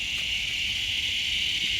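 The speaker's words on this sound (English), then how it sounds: "Oh, those cicadas are on 10." Cicadas droning loudly in a garden tree, heard from directly beneath it: a steady, unbroken high-pitched buzz that holds at full strength for the whole stretch.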